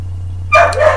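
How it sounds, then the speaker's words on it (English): A new puppy shut in a crate gives a single sharp bark after a quiet stretch with a low steady hum, sounding fairly close and loud. "If you hear my new puppy barking in the background"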